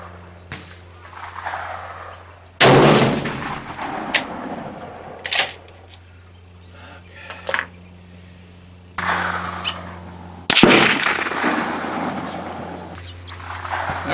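Steyr CISM rifle firing 7.5x55 Swiss ammunition at an outdoor range, with loud sharp shots at irregular intervals, two of them especially heavy and booming, each trailing off into a short echo against a low background hum.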